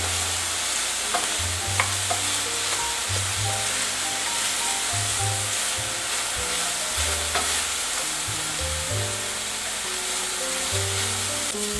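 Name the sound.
onion frying in a pan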